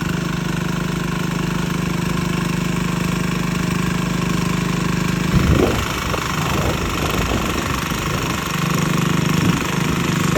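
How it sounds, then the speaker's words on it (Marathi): A diesel tractor engine runs at a steady loud drone while ploughing a paddy field, with the note briefly roughening and shifting midway before settling back to its even hum. "कट पडला नाही ट्रॅक्टरचा"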